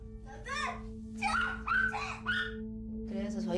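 A dog gives a few loud, close barks and yips in a family home, against a steady background hum.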